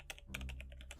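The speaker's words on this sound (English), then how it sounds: "typing" Quick, quiet typing on a computer keyboard, a rapid run of light key clicks over about a second with a faint low hum beneath.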